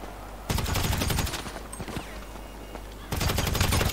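Rapid bursts of automatic gunfire in the GTA 5 zombie survival mod, two loud sustained volleys at the start and end with scattered single shots and faint game sounds between.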